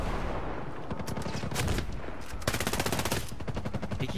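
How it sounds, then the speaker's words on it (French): Video game gunfire rattles in dense overlapping bursts, loud and continuous, with rapid automatic fire dominating the latter half over a busy game soundscape. "Et qui me tire dessus?"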